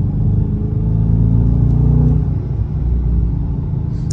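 A 2023 Dodge Charger R/T with a Hemi V8 muscle-car engine rumbles steadily from inside the cabin while driving, a deep continuous low-end drone that swells slightly midway.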